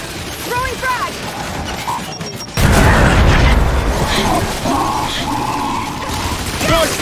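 Frag grenade blast in Gears 5, a sudden loud low boom partway through that leaves a sustained rumble of debris and combat noise, with scattered game voices.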